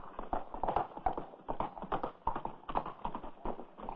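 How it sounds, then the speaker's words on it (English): Rapid, rhythmic hoofbeats of a horse galloping, a continuous drumming clip-clop at close range with no voices. "Look at that horse run."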